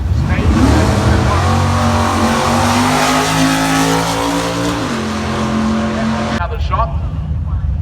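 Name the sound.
drag racing car accelerating at street drags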